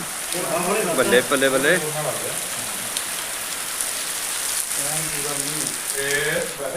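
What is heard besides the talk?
heavy rain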